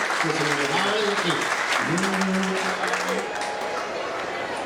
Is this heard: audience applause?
yes